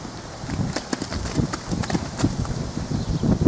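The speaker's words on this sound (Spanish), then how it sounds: "cómo el caballo pecha, cómo va para adelante" A chestnut Quarter Horse cross, a calm working ranch horse, walks with steady clip-clopping hooves, close and fairly loud over a windy outdoor background.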